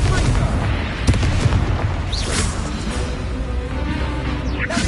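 A Bombarda explosion spell in Hogwarts Legacy lands with loud, booming blasts over a dense rumble of combat noise, with short bursts and pops scattered through the fight.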